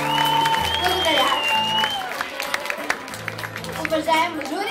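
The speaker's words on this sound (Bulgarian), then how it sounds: "Моля вашите най-големи аплодисменти" Audience applause for a poet at a talent show in a Varna disco club, a steady loud wash of clapping with music and voices mixed in underneath.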